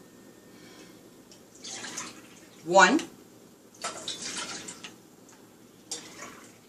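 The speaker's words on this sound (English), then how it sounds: "I'm going to pour the milk in." Milk is poured into a pot for banana pudding, four cups going in as short, soft liquid pours separated by pauses, while a voice nearby counts along.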